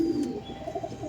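Domestic Madras pigeon of tournament quality cooing in a loft in Belgharia, a soft low murmuring coo close by, brief and steady with faint background noise.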